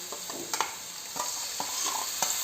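Onion, garlic, green chilli paste, turmeric, cumin and a little ginger being stirred and fried in a pan for a Bengali sarputi fish curry, with soft sizzling and several scraping stir strokes, close and fairly quiet.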